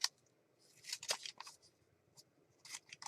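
Scissors snipping paper at an angle while making a junk journal page, a few quiet crisp cuts in short bursts with pauses between, close by and alone.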